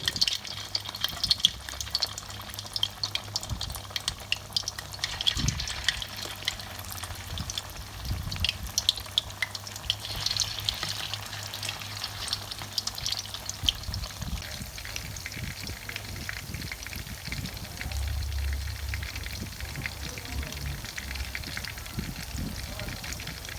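Thai fish cakes, many pieces at once, bubbling and crackling in hot oil with a continuous dense sizzle and occasional spatula knocks, close up, with someone talking intermittently over it.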